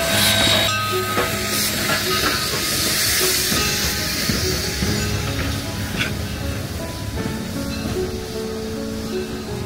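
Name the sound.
vintage steam train standing at a station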